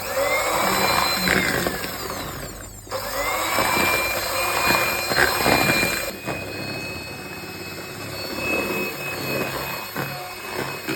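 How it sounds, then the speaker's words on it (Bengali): An electric mixer beating four eggs with powdered sugar, giving a continuous whirring motor whine for about eleven seconds whose pitch shifts a little as the beaters work, with no voices over it. "এখন চারটা ডিম আমি বিট করছি"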